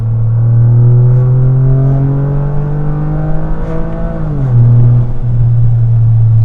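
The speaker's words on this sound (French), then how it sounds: "t'entends le petit coup de pied quand tu passes la vitesse" A 2024 Toyota Yaris GR with a 1.6-litre turbo three-cylinder pulls hard, its loud, close engine note rising steadily, then dipping sharply at a gear change before climbing again.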